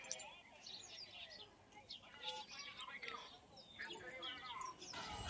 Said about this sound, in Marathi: चिमणी जे काही पक्षी असतात सगळे आपापल्या घरट्याकडे येतात